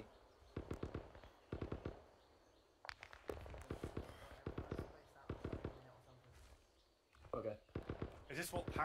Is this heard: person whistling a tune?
no